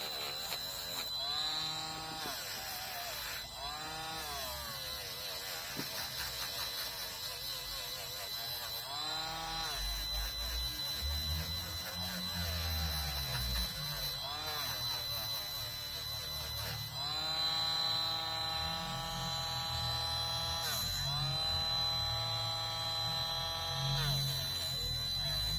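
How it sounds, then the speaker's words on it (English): A Dremel rotary tool cleans an electric connector with a continuous high, buzzing whine that rises and dips in pitch as it grinds in repeated passes, steady and close throughout. "get a Dremel, it does it beautifully, it cleans them up lovely"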